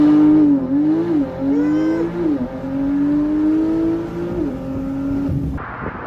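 A 2023 Porsche 911 Turbo S cabriolet engine holds a loud, steady, close tone that rises and dips slightly with a few light blips of the throttle, ending with a brief shift in sound.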